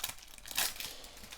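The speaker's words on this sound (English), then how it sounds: "So I've got the scissors for this one because it's quite difficult to open." A Pokémon booster pack being opened with scissors gives a brief crinkling and tearing of foil wrapper, with a sharper crunch near the middle of the short moment and no voice.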